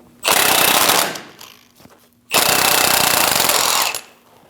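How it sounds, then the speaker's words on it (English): An impact wrench with a 24mm socket removes the lower ball joint nut on a 2001-2006 Chevrolet Silverado 2500 HD, producing two loud, sustained rattling bursts separated by a short pause, with no talk. "Using a 24mm socket, remove the nut for the lower ball joint."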